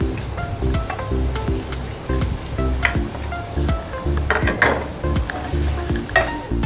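Chopped onions sizzle and crackle in a hot pan, with steady frying hiss and repeated scraping stirs, fairly close and loud.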